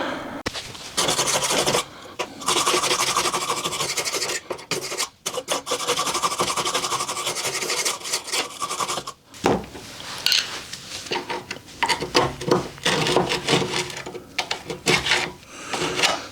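A brush scrubs corrosion off a Rover P4 body panel during rust repair, producing a harsh, continuous rasping scrub. It comes in uneven strokes with short pauses, close and fairly loud.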